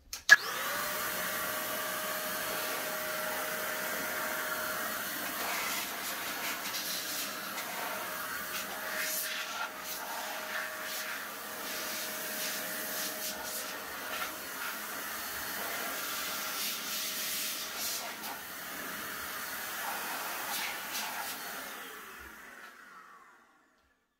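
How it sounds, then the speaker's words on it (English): An electric electronics duster blows dust indoors with a steady, loud whooshing hiss. It runs continuously for about twenty seconds and then winds down to silence. "This is my electronics duster."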